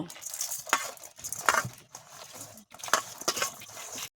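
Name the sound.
mixing eggplant with salt, turmeric and sugar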